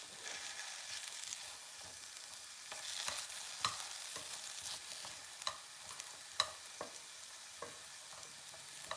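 Steady sizzling of sweet potato being stir-fried in a wok, with occasional sharp clinks and scrapes of a utensil against the wok.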